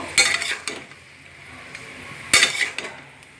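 Bottle gourd curry with salt and turmeric stirred in a pot, two bursts of spoon scraping and clinking against metal about two seconds apart over a soft sizzle, close and fairly loud, with no talk.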